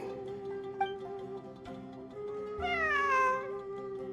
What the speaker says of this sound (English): A cat? I think there was one earlier, too.